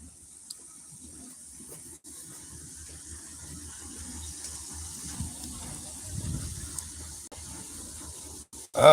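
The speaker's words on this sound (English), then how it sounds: "now I hear all this hissing and spraying noise" A steady, continuous hissing spray follows something falling over. It runs unbroken and fairly close, with a faint low rumble underneath and no talking.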